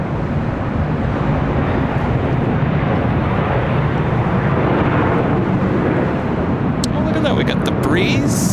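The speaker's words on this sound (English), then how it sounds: "Airways A22300 coming in from Pittsburgh, Pennsylvania, 554 heading to the south side." An airliner arriving at LAX from Pittsburgh makes a loud, steady broadband roar that fills the whole stretch, with wind buffeting and a brief higher chirp near the end.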